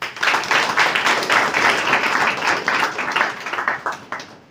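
An audience applauds health personnel at a ceremony for newly trained general physicians in obstetric care; dense, continuous clapping, loud and close, lasting several seconds without a break.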